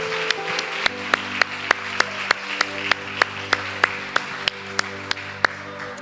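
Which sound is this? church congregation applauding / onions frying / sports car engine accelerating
church congregation applauding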